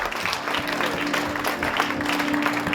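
Steady clapping from a church congregation during a sermon, a continuous moderately loud patter of many hands with a faint sustained tone underneath.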